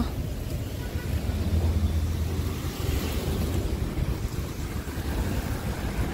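A river flows near a dam on an overcast day, a steady broad rushing wash of water mixed with low wind rumble buffeting the microphone.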